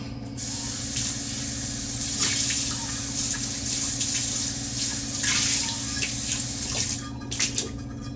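Water sprays steadily into a container being rinsed out, a continuous hissing rush over a low hum, close and constant for several seconds.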